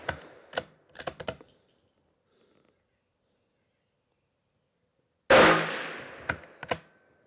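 A rifle fires a single loud, close shot with a ringing decay while its scope is zeroed at about 50 yards. Light clicks and handling sounds come before it, with quiet stretches in between.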